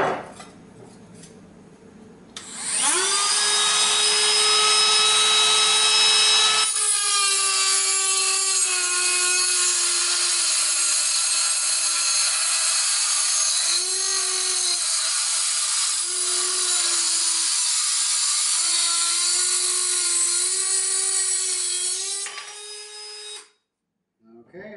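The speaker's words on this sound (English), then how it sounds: "we're going to take our Dremel now, and our glasses, and we're going to go ahead and cut the end of this sucker off" A Dremel rotary tool cuts through the end of a metal GPU bracket, a loud, steady high-pitched whine with grinding overtones that holds for about twenty seconds, then winds down and stops.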